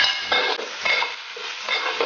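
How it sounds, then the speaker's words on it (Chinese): Garlic, Chinese sausage and beef stir-fried in lard in a hot wok sizzle steadily and loudly up close, with rhythmic scraping and tossing strokes of the spatula and no talking. "锅热，准备下油，这个是昨天刚弄好的猪油，爆香这个蒜头，下入腊肠跟牛肉"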